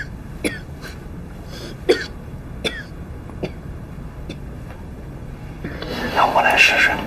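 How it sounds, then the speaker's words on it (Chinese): Repeated short coughs, about seven sharp bursts spaced irregularly close to the listener, followed by louder mixed noise at the end. "你咳嗽太厉害了。"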